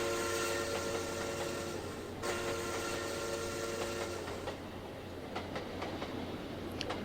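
A train runs in a railway video game with a steady rumble, a sustained tonal drone and a few clicks late on, heard alone at moderate level.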